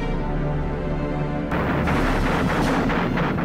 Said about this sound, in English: this huge artillery barrage came in and landed on the frontline positions